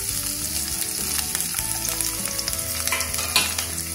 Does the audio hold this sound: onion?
yes